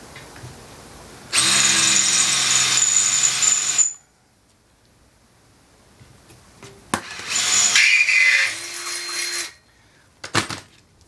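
A power drill runs a 1/4-20 tap into trailer metal in two loud, sustained whirring bursts separated by a pause, ending with a few sharp clicks and clanks nearby, with no talk.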